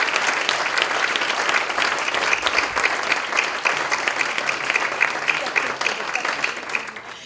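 A crowd at a children's courage awards ceremony for the Rotary Club of Grantham Kesteven breaks into loud, sustained applause, a steady dense clapping from a nearby audience that carries on unbroken.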